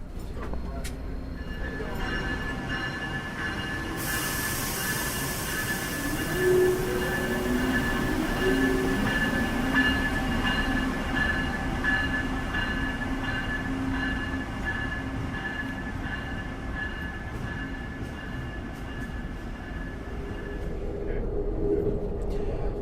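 Amtrak Crescent train pulling out of Moynihan Train Hall under electric traction, heard from inside as a steady low rolling rumble with faint squeals and a tonal whine building as it gets underway, with no talking.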